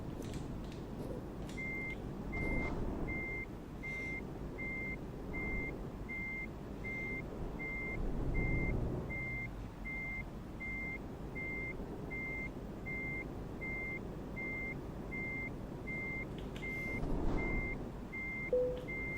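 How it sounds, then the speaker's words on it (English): Truck in Euro Truck Simulator 2 reversing up to attach a trailer, an evenly spaced electronic reversing beep repeating steadily over a low diesel engine rumble, with no talk. "I'm going to attach the trailer"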